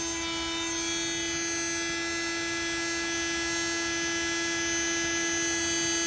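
A constant high-pitched electrical whine from an ALLPOWERS lithium power station inverter under over 2500 watts of load, with a steady buzzing hum underneath, unchanging and fairly close.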